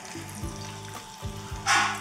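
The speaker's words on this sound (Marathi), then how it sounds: "कढईत तेल गरम केलेलं आहे. यामध्ये हे वडा सोडूयात" Steady sizzling of vadas deep-frying in hot oil over medium heat, with a few clinks and a louder burst of crackling near the end.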